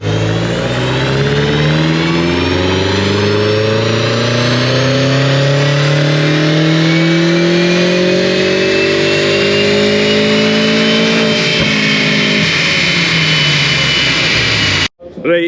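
A rear-wheel-drive BMW M5 on dyno rollers revs hard through climbing gear sweeps, its engine note rising repeatedly to a loud high-pitched scream before cutting off abruptly at the end.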